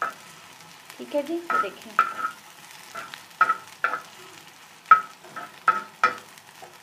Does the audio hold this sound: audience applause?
no